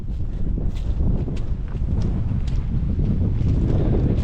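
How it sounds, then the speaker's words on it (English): Strong wind buffeting the microphone outdoors in an interior African village on a sunny day, a loud continuous rumbling roar with gusty swells and no talking. "Right now it's sunny and windy."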